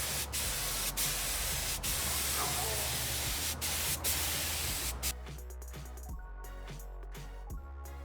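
An HVLP spray gun sprays chalk paint onto furniture, a loud, close, steady hiss with brief pauses, ending about two thirds through and leaving a low background hum.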